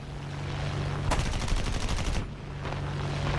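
A Tempest Mk V fighter's cannons in War Thunder fire one rapid, rattling burst of about a second over a steady engine drone, followed by a fainter short burst.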